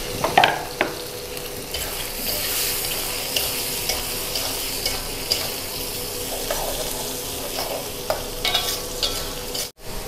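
A spice paste with shrimp paste fries in a pan and is stirred, producing a steady sizzle with scraping clicks from a spatula and a few louder knocks near the start and end.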